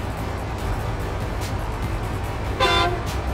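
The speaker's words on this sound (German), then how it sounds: "Jo, jetzt hat er gehupt, ohne dass man was gesehen hat." A truck horn in SnowRunner gives one loud, steady toot of under half a second near the end, set over a constant low engine rumble.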